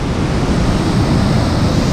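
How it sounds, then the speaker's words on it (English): A stream of water runs down beside a Scottish Highland trail in wet winter conditions, giving a steady, loud, close rushing wash with wind noise mixed in and no break throughout. "Some water coming down there."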